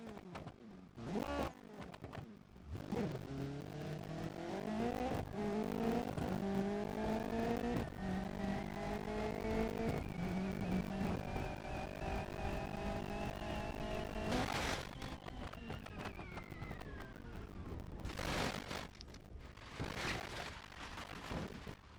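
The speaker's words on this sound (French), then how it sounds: "on se quitte évidemment sur un dernier petit crash avec cette voiture" A car in the BeamNG driving game accelerates with a rising, droning engine note for several seconds, then crashes with sharp, loud impacts, heard close with no speech.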